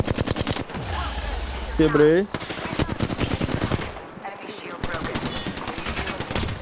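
Rapid automatic gunfire from Apex Legends rattles in dense bursts with sharp repeated cracks, close and loud, while players talk excitedly over the shooting.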